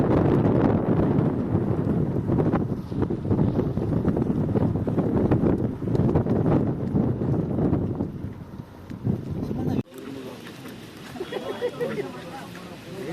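Strong, cold wind buffets the microphone in a loud, continuous rumble for several seconds in Sakleshpur, then drops away, leaving quieter outdoor sounds and faint voices.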